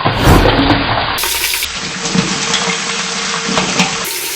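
Cut crab pieces go into hot oil with browned onions for Mangalore-style crab sukka, giving a sudden loud burst of sizzling that settles into a steady, close crackling hiss.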